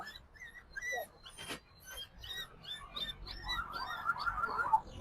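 A dog yelps and whines in short, high-pitched bursts, fairly close, with a longer run of whimpering cries toward the end.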